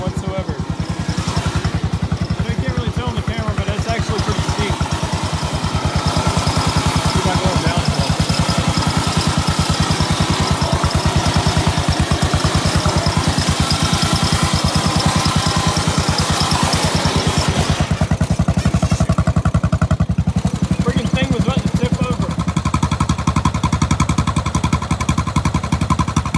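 Engine of a WWII Jeep converted into an off-road mower, crawling uphill in first gear: a steady, throbbing mid-pitched engine drone that strains and shifts near the end, with a voice talking over it.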